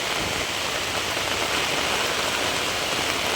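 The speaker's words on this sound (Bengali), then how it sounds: "মসুল ধারে বৃষ্টি হচ্ছে বন্ধুরা" Heavy rain pours down on a village where maize has been soaked, a dense steady hiss without pause or voices.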